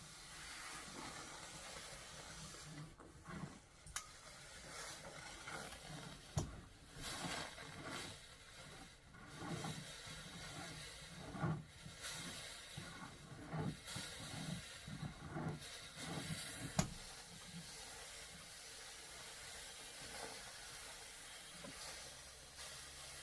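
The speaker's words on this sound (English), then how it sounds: "steam iron" A steam iron hisses in bursts while a hat is shaped on a block, soft intermittent puffs and longer sprays with brief clicks between them, fairly quiet and close, no voices.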